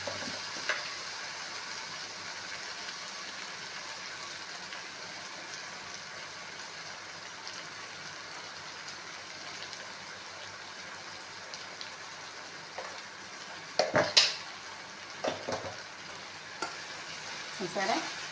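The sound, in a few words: shrimp and eggplant curry cooking in a pan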